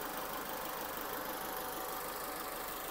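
A car engine idles steadily at moderate level, a continuous even rumble with a slight knocking texture and no voices.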